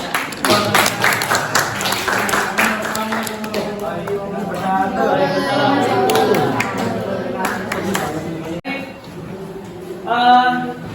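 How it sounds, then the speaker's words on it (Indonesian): Audience clapping in a classroom presentation setting, a steady burst of applause under a talking voice that fades out partway through. "Oke, beri aplaus."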